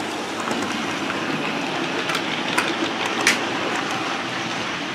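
A train rumbles past on a railway line toward Norwich, a loud continuous roar of wheels with faint clickety-clack rhythm and brief squeaks, no voices.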